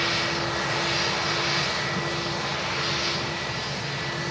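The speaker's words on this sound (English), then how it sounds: "Turkish A321 stopping for a quick picture." A Turkish Airlines Airbus A321 jet idles while taxiing at Manchester Airport, giving a loud, steady engine roar with a constant whining tone that holds without change throughout.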